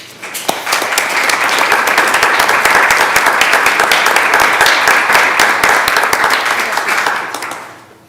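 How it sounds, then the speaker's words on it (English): Round of applause at a school board of education meeting, a loud, dense burst of many people clapping that builds fast, holds steady for several seconds, then fades at the end. "If we can give them a round of applause"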